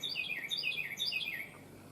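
A bird chirps outdoors in quick repeated high tweets at a moderate distance, continuous and unaccompanied by speech.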